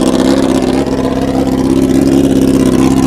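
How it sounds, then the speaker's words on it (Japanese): A Honda CBR400F motorcycle with a full BEET exhaust idles loud and steady, its deep, even burble continuous and close throughout without any talk. "あのアイドリング状態でこれです。 音が 結構大きいですね。"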